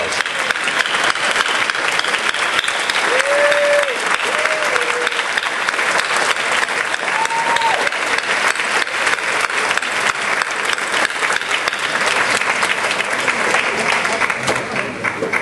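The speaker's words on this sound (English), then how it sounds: "let's everybody give them a round of applause" Sustained applause from a seated audience of first-timers and guests at a September community event, loud and steady throughout with a brief voice or two rising above the clapping.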